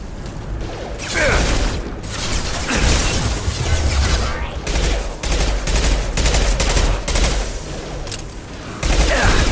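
Heavy, sustained gunfire and explosive bursts fill a video game battle, dense and loud almost throughout with brief dips, with voices mixed into the din.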